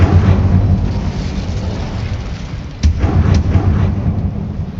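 An Incendio fire spell burns a spider web in Hogwarts Legacy: a steady low, rumbling roar with a sharper flaring burst about midway, and no voices.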